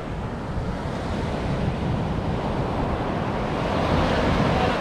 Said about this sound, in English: blowing a gale from the northwest